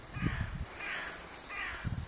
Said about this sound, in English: The birds are calling.